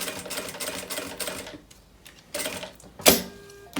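A sewing machine stitches a decorative seam on a fabric wine bottle holder, rapid close mechanical chatter in short bursts with pauses and a sharp click near the end.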